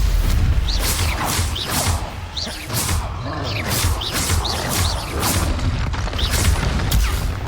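Bombarda blasting spells from Hogwarts Legacy explode again and again, with heavy booms and whooshing magical bursts landing in rapid succession amid continuous loud game combat.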